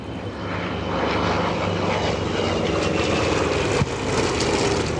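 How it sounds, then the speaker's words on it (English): A Mustang warbird's propeller engine drones steadily overhead at EAA AirVenture, a loud, continuous roar holding for several seconds with one brief sharp knock near the end. "A Mustang, I'll call your right turn."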